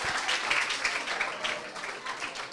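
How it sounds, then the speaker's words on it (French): A classroom of students claps for a classmate at a Guinean school, a brief burst of steady applause from a small group, fairly close and continuous throughout. "on applaudit pour elle"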